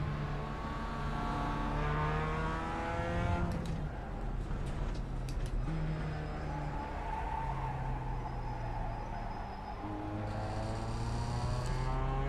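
A race car engine in the iRacing sim revs up and holds high, drops through a shift with rattling gear changes, then climbs again in a steady drone.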